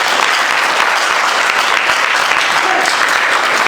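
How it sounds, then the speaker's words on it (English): Dense, even hand clapping from an audience at a university freshers' debate fills the whole stretch, sustained and loud with no break. "give the Almighty a very big hand clap"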